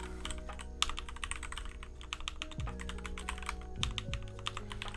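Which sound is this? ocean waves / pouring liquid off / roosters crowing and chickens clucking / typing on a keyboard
typing on a keyboard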